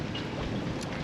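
Strong gusty wind at sea over a boat in rough weather, gusting to around 48 knots, roaring as a steady broadband rush against the microphone with no voices.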